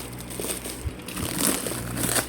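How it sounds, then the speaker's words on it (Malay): Black plastic parcel wrapping is cut open and peeled back, producing steady crinkling and crumpling rustles with a few sharper crackles, close and fairly loud throughout. "Kita potong dulu plastik hitam ni."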